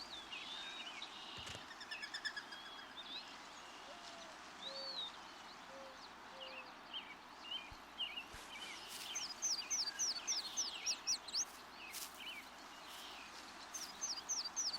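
Dove cooing in the wild during courtship, soft low repeated coos in a short series under a busy background of other birds chirping and trilling outdoors.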